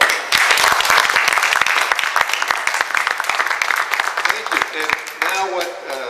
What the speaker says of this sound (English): let's hear a very warm round of applause for Paul Grondahl